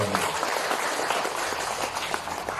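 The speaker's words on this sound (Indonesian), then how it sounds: "Tepuk tangan dong buat Bapak Wakil." Audience applause at a community regulation outreach event, steady dense clapping filling the whole stretch at moderate level with no break.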